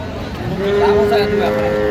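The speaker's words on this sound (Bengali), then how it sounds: "গরুগুলো" A Shahiwal bull at a Dinajpur cattle farm gives a steady, drawn-out moo that starts after half a second and holds to the end, close and moderately loud over farm background noise.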